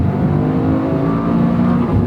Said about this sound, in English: You can even see the graphic here of the turbo spooling up, the turbo pressure.